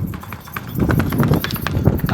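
A mare's hooves clip-clop in a quick running rhythm on hard ground, close and fairly loud, with voices talking over them.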